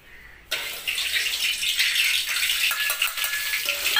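A mix of three or four spices dropped into hot oil for a stuffed eggplant dish bursts into a loud, bright sizzle that holds steady and close, with small crackling flickers, and no talk.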